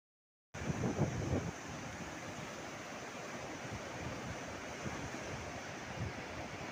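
Steady, broad roar of strong wind by the sea buffeting the microphone, with a rushing surf-like wash throughout and no voices.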